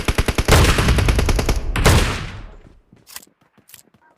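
M1014 shotgun fire in the BGMI battle royale game on the Livik map: a quick burst of close, loud booming shots that rolls into a sustained roar, fades, then a few sharp clicks and snaps.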